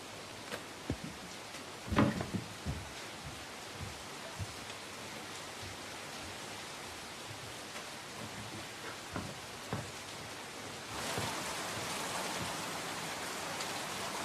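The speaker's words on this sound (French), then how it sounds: "avec cette pluie là qui n'en finit pas" Steady rain falls as a soft continuous hiss, with scattered nearby drips and knocks, growing a little heavier toward the end, no voices.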